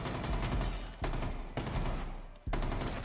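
Gunfire in Rainbow Six Siege shooting out the floor, sustained rapid automatic bursts with short gaps between them, dense and continuous.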